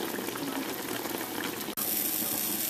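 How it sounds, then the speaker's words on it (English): A pot of beans at a rolling boil on a stove gives steady, close bubbling and churning water, briefly cut off for an instant midway before continuing. "Well, beans are boiling too"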